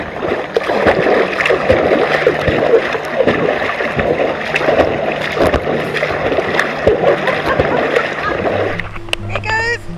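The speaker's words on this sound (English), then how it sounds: "Here goes, more rapids coming up." A boat powering through river rapids in North Queensland, with loud, close, continuous splashing and rushing water throughout and a brief motor tone near the end.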